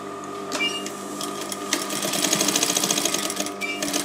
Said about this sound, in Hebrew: ועוד פעם תופרים בצד הפנימי של מכנס, ככה.